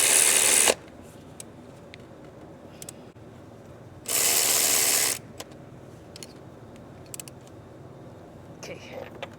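A ratchet snugs a spark plug into the 3.0 L engine of a 2010 Ford Escape, with two short, sharp mechanical bursts several seconds apart and faint handling sounds in the quiet between.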